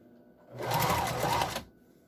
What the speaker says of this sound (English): And stitch it down.